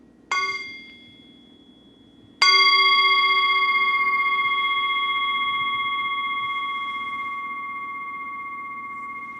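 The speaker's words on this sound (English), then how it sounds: "as we hear the next sound of the bell" A mindfulness bell is struck twice in a quiet meditation session, first a brief touch, then a full strike whose clear, bright tone rings out and slowly fades over many seconds.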